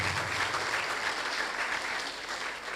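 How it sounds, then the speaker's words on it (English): Steady, dense applause from a university audience at the launch of a student research club, a continuous wash of many hands clapping at even loudness with no voices over it. "I thought you would clap."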